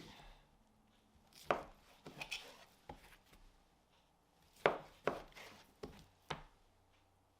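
A knife trimming and squaring up thick raw New York strip steaks, about 1.25 inches thick, on a cutting board, heard as scattered sharp cuts and taps in small clusters with quiet gaps between them.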